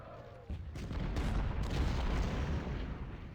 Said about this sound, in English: I'm going to have my artillery shoot at his artillery.